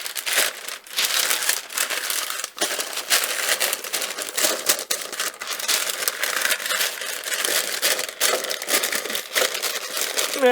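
Paper crinkles and crumples steadily while being wrapped around the outside of a cake tin in a home kitchen, a close, continuous rustling with sharper crackles throughout and no talking.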